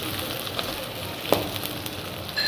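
Onions and chopped green chilli frying in hot oil in a kadai for a potato curry, a steady soft sizzle running throughout with a sharper crackle near the middle, no voices.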